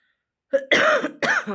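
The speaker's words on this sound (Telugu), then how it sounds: "బాగా జలుబు చేసి దగ్గుగా ఉందండి" Silence, then a short series of harsh, close coughs from a person with a cold, two or three bursts in quick succession.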